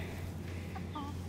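Phoenix chickens clucking in a backyard coop area: a couple of short, soft clucks over a steady low hum, fairly faint and close by.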